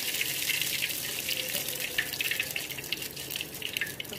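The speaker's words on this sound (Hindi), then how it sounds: "तो हम थोड़ा थोड़ा बैटर इसमें डालेंगे।" Ghewar batter poured into hot oil gives a steady, close hiss and bubbling sizzle with crackling spatters throughout, no voices.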